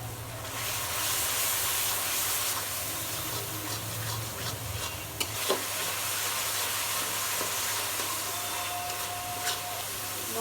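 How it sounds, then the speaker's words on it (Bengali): Spices cook in a pan with ground green chilli paste, red chilli powder, turmeric, coriander powder and salt, giving a low, steady hiss. A constant hum runs underneath, with an occasional faint clink or scrape. "মশলা কষানো হয়ে গেছে"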